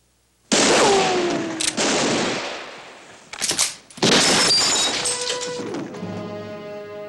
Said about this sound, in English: And as for you, Cartwright, you just got in the way of a wild bullet.